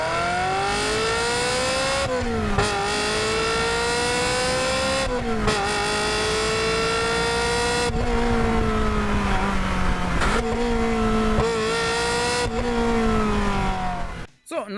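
A Ferrari's 3.5-litre naturally aspirated V8 with five valves per cylinder and 380 horsepower revs hard through repeated rising pulls and gear changes, loud and close, before cutting off abruptly at the end.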